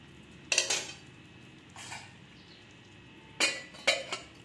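A pot of sweet tomato chutney is stirred and then covered during cooking, with a few short, close clattering bursts of metal utensil on cookware separated by quiet pauses.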